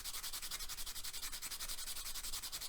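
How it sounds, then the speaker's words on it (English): A sanding sponge rubs back and forth over model filler on a 1/16 scale Dragon Schutze kit, producing close, rhythmic raspy strokes at a steady even pace with no talking. "just gently let the sanding sponge do the work"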